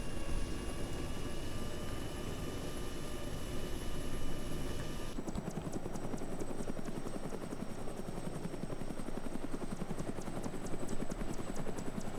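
Russian Mi-8 helicopter in the video game Arma 3 flying over the Chernarus map, a steady loud rotor and turbine drone with a whining tone that shifts partway through, constant and close with no talk.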